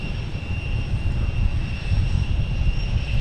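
An airliner's engines give a steady, loud roar and whine at Boston Logan Airport in the late afternoon. The sound is a continuous drone with a constant high tonal hum, heard from fairly close, with no one talking over it.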